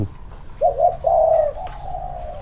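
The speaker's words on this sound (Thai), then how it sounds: "เหมือนมีนกตัวหนึ่ง" A dove coos softly a few times in a short series of low, rounded notes over quiet outdoor background noise.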